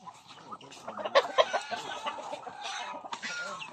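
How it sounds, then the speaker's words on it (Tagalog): Several chickens cluck close by in short, uneven bursts, with rustling and a few louder squawks mixed in, as they are chased and caught for slaughter. "Manghuhuli kami ng manok kasi kakatayin namin."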